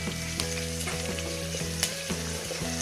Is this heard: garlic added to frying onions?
yes